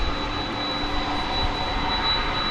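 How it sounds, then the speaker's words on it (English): UPS Boeing 767 jet airliner at DFW Airport at night, a steady distant engine roar with a thin high whine held throughout. "There's a 767. This one's also going to Louisville. A UPS."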